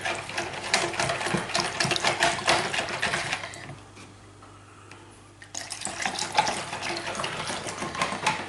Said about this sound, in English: Whisk it all the time.